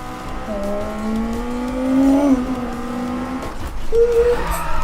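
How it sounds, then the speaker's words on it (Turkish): A car in Need for Speed 2015, driven with a Logitech G27 wheel, skids under a handbrake pull with a rising tire squeal over the engine drone, loud and sustained, then a short second squeal near the end. "Çok rezil bir şekilde el fren çektim"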